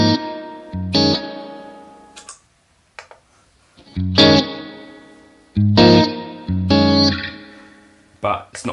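Electric guitar played through a Helix Hot Springs spring reverb with dwell at 10, heard as several strummed chords and short phrases separated by gaps, each ringing out with a fairly short reverb tail, played alone.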